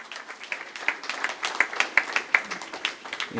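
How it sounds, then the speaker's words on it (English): A crowd claps together in steady applause, sharp hand claps rising and sustaining for a few seconds without voices. "give them a big round of applause"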